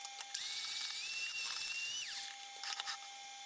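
An electric hand mixer whirs steadily for about two seconds in a home kitchen while a batch is mixed before lemon zest goes in, then winds down and stops, with a faint rattle afterward.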